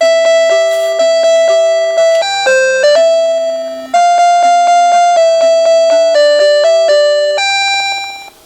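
A NuTone LA53 "Sonata" electronic door chime plays a bright, bell-like melody of quick stepping notes, pausing briefly midway before the tune resumes and fades out.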